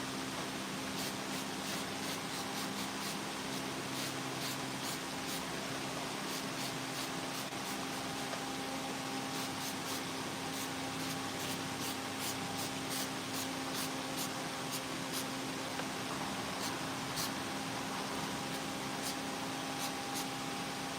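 A spray paint can hisses in a long, unbroken, even spray onto a chainsaw-carved wooden sculpture outdoors, with faint ticking specks over the steady blast.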